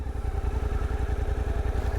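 A Suzuki V-Strom 800 DE motorcycle engine chugs steadily at low revs in first gear without throttle, with a rhythmic, pulsing thump, close by and alone, with no voices.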